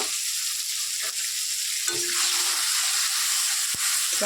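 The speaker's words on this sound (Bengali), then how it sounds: "এটাকে ভালো করে একটু কষিয়ে নেবো" Spices fried with tomato in a pan for a Bengali chal kumra and bata fish dish, a steady close sizzle with a few stirring knocks and scrapes, no talking.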